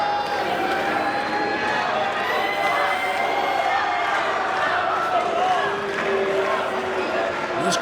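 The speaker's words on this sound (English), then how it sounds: "This crowd calling for it." A fight-event crowd roars and calls out continuously, a dense wall of cheering and shouting voices filling the arena at steady loudness throughout.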